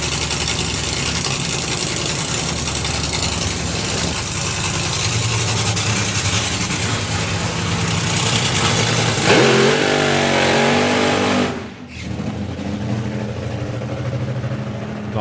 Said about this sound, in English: Nice short, crisp burnout.